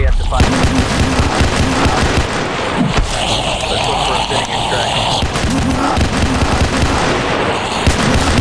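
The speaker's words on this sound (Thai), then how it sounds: "ผมยิงหัวทุกคนผมยิงหัว" Gunshots in the Roblox game PARACAM, a loud, dense barrage of rapid shots rattling continuously for several seconds, close and heavy, with voices mixed in.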